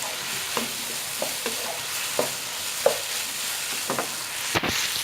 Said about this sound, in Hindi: मैंने इसका फ्लेम कम नहीं किया था, मैं मुसलसल इसको हाई फ्लेम पे ही पका रही हूँ।